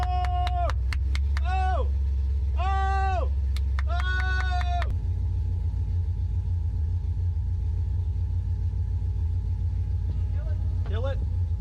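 A 1979 Camaro with a swapped LS V8 rumbles continuously at close range after its first start, a deep steady idle under intermittent voices talking over it.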